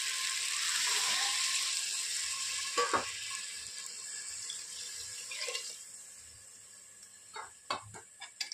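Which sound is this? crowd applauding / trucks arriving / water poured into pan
water poured into pan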